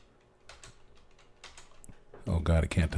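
Keys clatter on a computer keyboard in quick, irregular bursts of clicks, faint at first and growing louder, with a voice talking over the last second.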